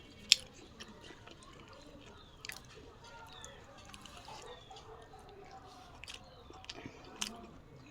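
Soft, close chewing and biting of fried papaya with flatbread at a breakfast meal, faint wet mouth sounds with a few sharper clicks scattered through a quiet room.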